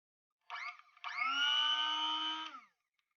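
A KingTop coffee grinder runs empty in two bursts: a brief whine, a short gap, then a steady high motor drone for about a second and a half before it cuts off, close and alone.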